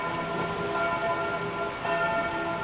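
Church bells in Lauterbrunnen, Switzerland, ringing at noon near a cemetery, a steady resonant tolling with overlapping hum and a fresh stroke near the end, heard from a distance against outdoor ambience and no talk.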